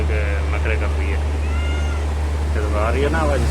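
A cat meows several times, short mewing calls repeated over a steady low hum, with some soft background voices.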